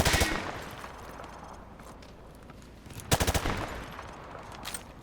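Modern Warfare 2 Remastered video game gunfire at range targets behind light cover: a fast machine-gun burst at the start, then a quieter stretch, then another sharp rattling burst of several shots.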